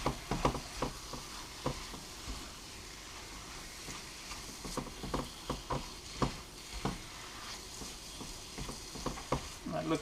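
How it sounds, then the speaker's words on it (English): A spoon stirs spices into simmering butter chicken sauce in a pan, giving a steady low sizzle with soft scraping and tapping strokes at an uneven rhythm, close and quiet. "Stir it in."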